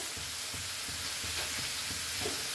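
Butter sizzling and frying steadily in a pan for garlic prawns, a soft continuous crackle and hiss with faint clinks, moderately quiet and close throughout.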